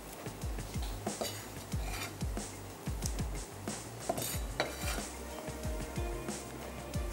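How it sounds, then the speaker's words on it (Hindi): Sliced ridge gourd tipped into a hot pan and stirred, with repeated metallic clinks and knocks of a spoon against the pan over a low sizzle, fairly quiet and close. "अब मैं इसमें ऐड कर दूंगी ये हमारी स्लाइस में कटी हुई तुरई"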